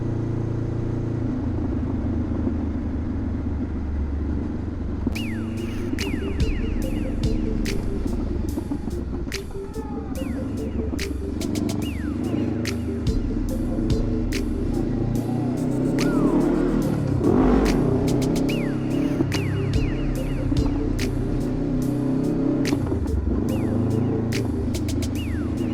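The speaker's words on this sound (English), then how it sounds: "This is less restrictive because it's rolling through the RPMs much easier than it did before." A 2021 Honda CBR500R fitted with a LeoVince LV-10 slip-on exhaust idles with a steady throbbing rumble, then revs repeatedly in a run of rising and falling blips, loud and close, with no talking.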